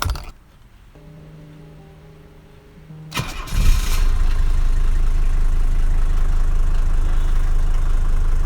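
A high-mileage Mercedes 300D non-turbo diesel car is started, a faint steady tone first, then the starter cranks and the engine catches and settles into a loud, rough, close idle.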